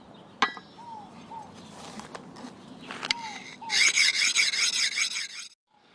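A forged camp knife is honed on the smoother side of a whetstone oiled with 3-in-1 multi-purpose oil: quiet, intermittent rubbing strokes, then a denser, louder rasping run of strokes near the end before it stops.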